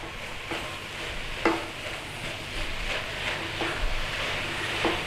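Vegetable spring roll filling tossed with soy sauce in a hot pan, a continuous soft sizzle with periodic scraping strokes of a utensil against the pan, close and steady, without voices.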